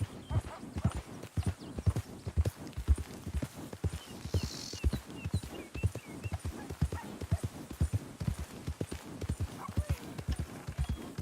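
Horse hooves clip-clop in a steady, brisk trotting rhythm in Red Dead Redemption 2, close and continuous for several seconds, with a brief snort partway through.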